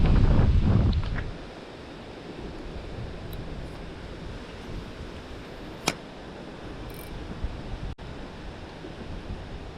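Wind at Laurel Hill Lake buffets the microphone in a loud burst at first, then settles into a steady, softer windy rush with a few faint clicks.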